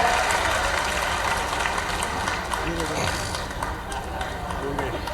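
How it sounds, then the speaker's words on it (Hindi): Crowd applause at a large political rally in Indore, a broad continuous wash of clapping from many people under a speaker's amplified voice and crowd noise. "जोरदार तालियां बजाएं"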